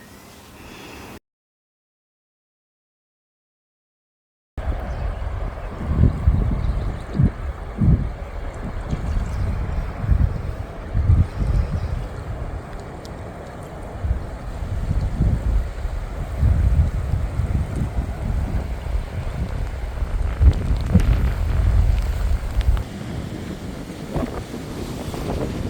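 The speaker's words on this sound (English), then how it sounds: "Look at those waves." Wind and breaking ocean waves by the sea, a steady loud roar with gusty buffeting on the microphone, after a brief silent gap near the start, no talking.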